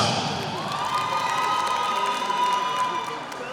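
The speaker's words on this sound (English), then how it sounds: "A huge round of applause" A large crowd at the opening ceremony of the Zone VI Volleyball Championships in Limpopo, South Africa claps and cheers steadily, a broad wash of applause with scattered shouts that eases slightly at the end.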